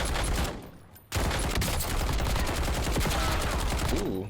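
Call of Duty Warzone gunfire in Verdansk, a loud, nearly continuous barrage of shots that drops briefly before resuming, with dense crackling reports throughout.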